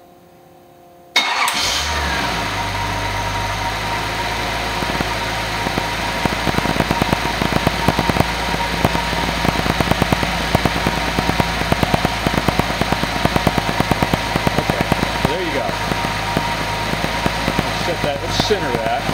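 A Nissan turbo engine, a 1983 280ZX or 1986 300ZX, cranks briefly and catches, then runs loud and close with a steady idle that carries a fine ticking texture throughout.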